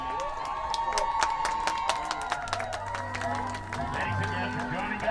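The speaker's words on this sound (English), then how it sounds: "how about a big round of applause" Stadium crowd of soccer fans cheering and clapping at a club league match, a broad roar with scattered claps, while an announcer's voice and music-like tones carry over it.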